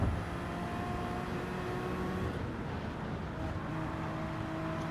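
Race car engines roar in Gran Turismo 7 while passing a Porsche on the Tokyo Expressway, a dense, steady drone of engine and tyre noise held loud throughout with no change in pace.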